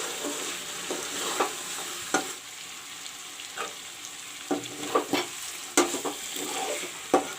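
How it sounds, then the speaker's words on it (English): Oil sizzles steadily in a pan as chicken is fried with masala spices and stirred, with scraping spoon clatters and sharp bursts of spattering throughout. "Now I will fry the masalas along with the chicken."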